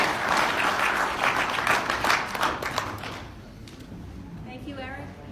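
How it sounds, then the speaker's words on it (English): An audience at a trade expo keynote session applauds loudly for about three seconds, then the clapping thins and fades to scattered claps and murmured voices. "Give yourself a hand."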